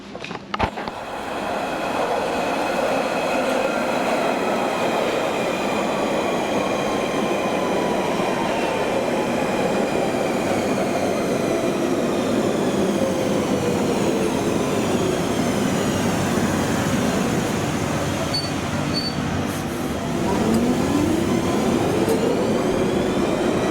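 A London Underground Central Line train on the Epping branch rumbles loudly and continuously, with a rising and falling motor whine and high wheel squeal near the end, and no talking.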